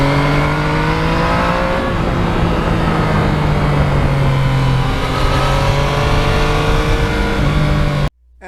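A Yamaha MT-09 naked motorcycle ridden on back roads on a cold day, with a loud, close engine whine rising and falling through gear changes, then cutting off abruptly near the end.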